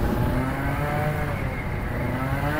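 Piaggio Zip scooter fitted with a Stage6 Sport engine revving inside a tunnel, a loud, steady, buzzy engine drone with echoing harmonics that fills the whole short stretch without pause.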